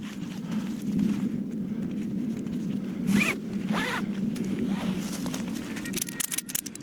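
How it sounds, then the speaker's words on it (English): Ratchet strap fed through an eyelet and tightened on a hammock tent, giving rasping, zipper-like ratchet bursts in short pulls over a steady low background hum. "take our ratchet, feed it through its eyelet, and pull"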